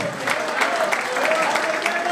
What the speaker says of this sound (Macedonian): Мирослав Јаковлевиќ, еден огромен аплауз за овој Стела